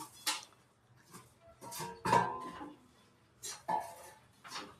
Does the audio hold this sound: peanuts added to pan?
yes